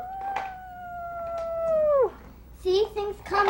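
A person imitates an animal's howl with one long sustained tone that slides downward before breaking off. Brief voiced sounds follow, and no other animals are heard.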